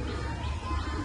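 Soft, low pigeon cooing on a rooftop, a steady murmuring call over faint background hum.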